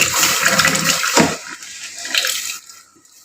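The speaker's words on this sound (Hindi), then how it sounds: "अब इसमें हम डालेंगे दूध।" Milk is poured into caramelized sugar in a pot while making tea, giving a loud, continuous rushing and gushing pour that tapers and fades out near the end.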